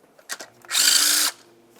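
Removing a 10mm bolt holding an ignition coil on a 2005-2010 Dodge Dakota, a couple of short clicks followed by one brief, loud whirring burst of a power driver, then quiet.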